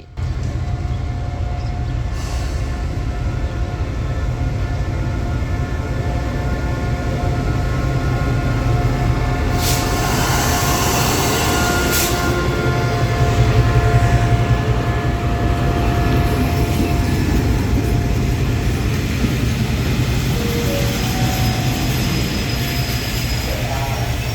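Thai passenger train no. 102 from Chiang Mai to Bangkok pulls into platform 2 at Lopburi station behind a diesel locomotive, a steady loud low rumble with engine drone throughout and a brief brighter squeal near the middle.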